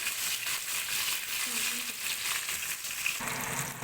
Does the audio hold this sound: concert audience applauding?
no